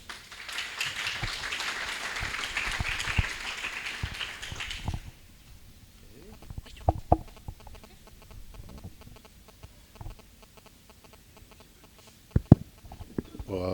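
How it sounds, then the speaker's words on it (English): At a technical imaging session, an audience gives a welcoming round of applause, a dense burst of clapping lasting about five seconds before it drops to scattered knocks and shuffling microphone handling. "So let's welcome Emiliano with a round of applause."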